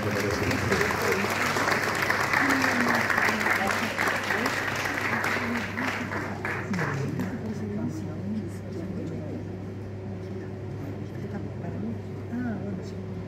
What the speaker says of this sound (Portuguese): Y por supuesto con un gran aplauso.